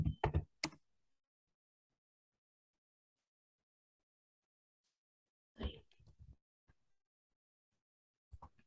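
A command is typed on a computer keyboard into an Ubuntu terminal: short clustered bursts of close keystroke clicks separated by long silences.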